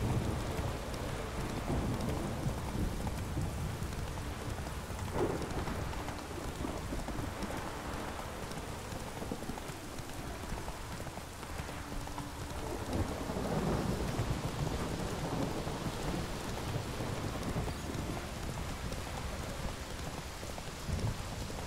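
Steady rain pours in The Witcher 3 video game, with rolling thunder rumbling through it several times, a continuous loud downpour hiss with no talking.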